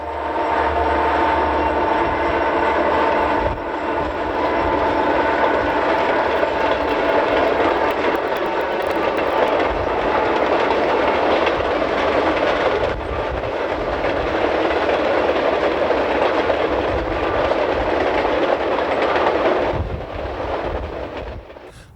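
Alaska Railroad trains rumble past in the evening, a loud sustained roar of rolling wagons and engine noise that holds steady for a long stretch before easing slightly at the end.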